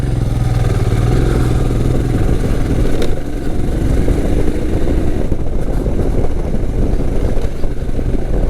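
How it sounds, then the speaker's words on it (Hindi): A Royal Enfield Himalayan BS6 motorcycle rides over potholes, its engine droning steadily up close while a faint clunking knock from the front end comes and goes beneath the continuous road and engine noise. "जैसे ही गड्ढे में जाती है गाड़ी तो खट खट करके आवाज़ आता है"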